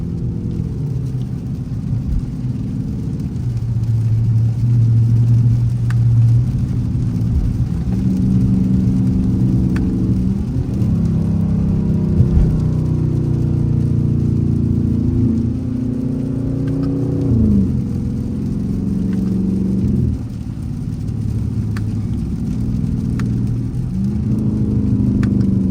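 A Dodge Charger R/T drives through a rainstorm, its engine holding a steady, close mid-pitched drone with occasional rises and dips in revs, all under a constant hiss of rain and road spray.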